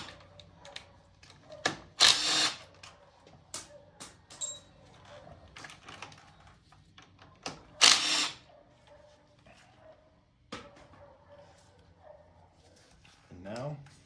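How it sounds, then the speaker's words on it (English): An H6 power tool loosens bolts on the front fork of a Kawasaki Vulcan S 650, giving two loud bursts a few seconds apart plus a shorter one near the end, with scattered clicks and handling noise between. "Gotta loosen all these bolts."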